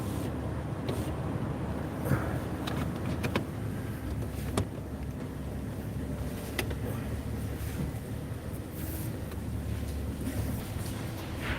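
A car drives along at steady speed, its low road and engine rumble continuous throughout, with wind buffeting the microphone and occasional faint clicks, no talking.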